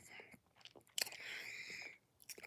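Cornstarch crunched between the teeth close to the microphone, a couple of dry squeaky crunching bursts separated by brief quiet gaps.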